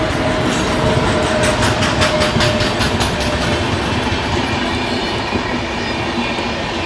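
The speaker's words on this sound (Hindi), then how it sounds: "ये देखो पैरेलल वहां से आ रही है नवजीवन एक्सप्रेस" Navjeevan Express arriving on a parallel track at Tenali Junction, a loud continuous rumble of passing coaches with rhythmic wheel clatter and a faint squeal over the steady roar.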